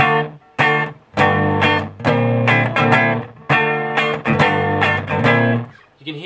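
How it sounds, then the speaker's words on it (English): Distorted electric guitar chords played through a Madbean Aquaboy delay pedal, loud strummed bursts with short gaps between them and a gritty, buzzy fuzz tone. "You can hear that distortion."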